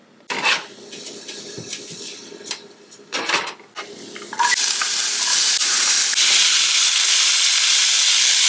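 A tempering for upma being stirred in a pan, with clinks and scrapes of utensils up close, then a loud, steady sizzle that rises and holds to the end.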